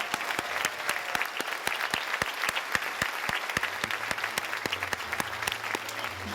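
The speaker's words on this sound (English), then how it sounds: "Let's give them a round of applause." An audience at a civic center tribute claps steadily, a dense, even round of applause that carries on without voices.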